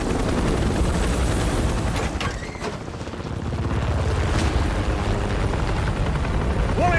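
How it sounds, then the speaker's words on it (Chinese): Armed military helicopters close in along a national highway, a dense, continuous rotor roar filling the scene with deep booms and gunfire-like bursts mixed in, loud and unbroken throughout. "敌方武装直升机马上临空"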